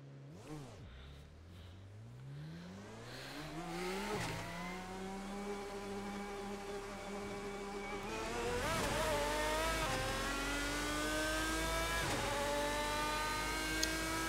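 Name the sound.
GT1 race car engine howl in Assetto Corsa sim racing game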